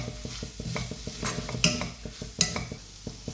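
Spices and pepper powder brown in a pan for a soya bean curry, a soft sizzle under a quick rhythm of spoon stirs with a couple of sharp metallic scrapes against the pan, close and alone.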